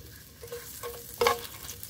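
Onion leek sautéing in a pan for a simple home-cooked udon dish, a soft steady sizzle with a few light stirring clatters and a brief louder burst of frying near the middle, heard alone at close range.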